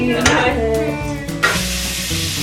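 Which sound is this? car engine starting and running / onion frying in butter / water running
onion frying in butter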